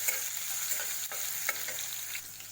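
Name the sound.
sautéing chopped garlic and ginger in hot oil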